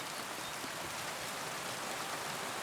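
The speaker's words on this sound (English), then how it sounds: "rains on you. It's getting harder as well, isn't it?" Steady rain in Kingdom Come: Deliverance, a dense, even hiss of drops falling continuously with no breaks, filling the scene alone without any voices.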